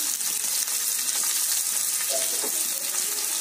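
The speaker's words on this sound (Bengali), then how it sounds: "এবার এটাকে ভেজে ফেলি" Chopped onion and dried red chillies sizzle steadily in a pan, a dense continuous frying hiss with faint clinks and stirring, close and even throughout with no talking.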